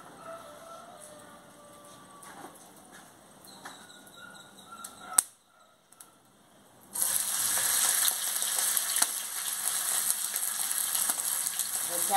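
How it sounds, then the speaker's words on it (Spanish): Chopped chorizo hits hot lard: a quiet kitchen with faint tones and a sharp clack gives way after a brief hush to a loud, steady, crackling sizzle that continues to the end. "Ahora ya le voy a echar los picados de chorizo."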